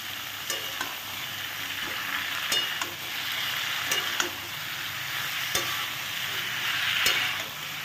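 Pumpkin stems and leaves being stirred in a hot pan with salt, a steady sizzle running throughout with soft scraping strokes and occasional light clicks of the utensil against the pan.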